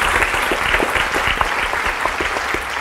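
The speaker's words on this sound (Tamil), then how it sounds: "கைத்தட்டலை அவங்களுக்காக கொடுத்துடலாம்." Warm, steady applause from an audience at a Tamil talent show for juniors, a continuous wash of many hands clapping with no pauses.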